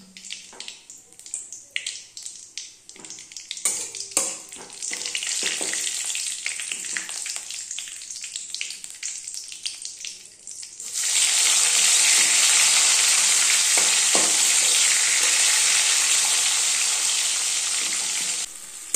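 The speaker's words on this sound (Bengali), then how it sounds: "মশলাগুলো দিয়ে ভালো করে নেড়ে চেড়ে নিতে হবে যতক্ষণ না মশলার গা থেকে তেল বেরোচ্ছে" Tomato with ginger, salt, chilli, coriander, cumin powder, turmeric and sugar fries in a pan: first quieter sizzling broken by spatula scrapes and knocks, then a sudden loud, steady hiss that continues to the end.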